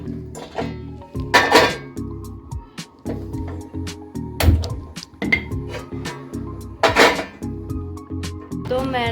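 Dishes, pots and cutlery clatter and clink in a home kitchen during a search for utensils, with repeated close, irregular knocks and rattles and occasional scraping, with no talking.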